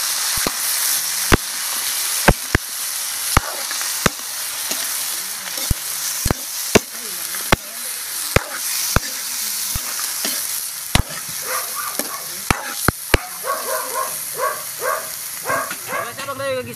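Turtle snake sautés in a pan with bay leaves and whole peppercorns, giving a steady close sizzle punctuated by sharp clacks of a utensil striking the pan roughly every second, while someone speaks over it near the end.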